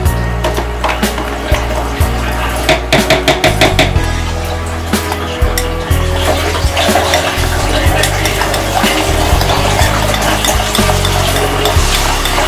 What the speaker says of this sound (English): you mix it with the fork or whisk